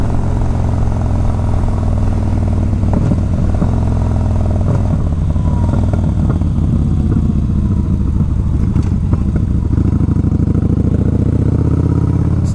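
A 2014 Yamaha Bolt cruiser motorcycle engine runs steadily while riding, a loud continuous low rumble with shifting revs and some mechanical clatter throughout.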